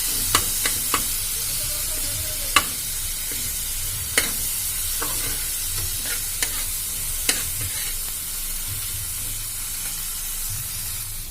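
Coriander and cumin powder cook in a hot pan with a constant bright sizzle, while a spoon scrapes and taps the pan at scattered intervals, up close and fairly loud, no talking.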